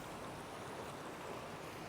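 A fast-flowing river rushes steadily at evening in Afghanistan, a constant even wash of water without pauses, moderately loud and close.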